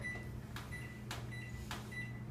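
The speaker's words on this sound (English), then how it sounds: "press start, or however your microwave works" Microwave oven being set and started, three short beeps from the keypad spaced evenly over a low steady hum, close and quiet with no talking.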